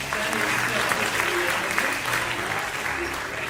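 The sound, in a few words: audience applause at a magic show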